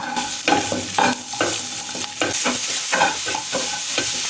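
Bay leaf, black cardamom, cumin and onions fry in a pan with a loud, dense sizzle, pulsing as they are stirred every half second or so, close up and without talk.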